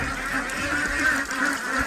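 Ducks kept for sale at a village duck seller's in Bengal give a steady, dense chorus of overlapping quacks and honking calls, close by and continuous, with no talking.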